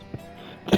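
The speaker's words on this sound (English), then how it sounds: "Laughing and coughing at the same time." A person laughing breaks into coughing: a small cough first, then a louder, sharper cough up close, with nothing else around it.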